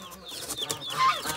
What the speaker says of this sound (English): new chicks